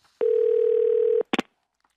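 A mobile phone placing a call gives a steady, clear dial tone lasting about a second, followed by a short burst of dialing beeps, close and alone with no talking.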